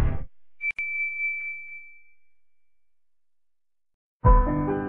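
A bright notification bell dings once with a clear ringing tone that decays slowly over a couple of seconds, set between louder bursts of other sound.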